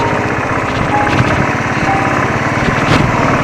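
A Royal Enfield Thunderbird motorcycle engine thrums steadily and loud close by as it rides over a sandy track of loose building sand, with rough rumbling and a faint high whine.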